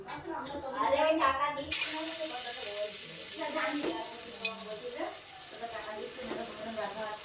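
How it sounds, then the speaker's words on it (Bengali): Potato pakoras sizzle loudly in hot oil as small rounds of batter are dropped in, with a sudden burst of crackling partway through that keeps bubbling steadily; someone talks over the frying. "তো এরকম গোল গোল করে দিয়ে এবার তেলের মধ্যে ছেড়ে দেবো।"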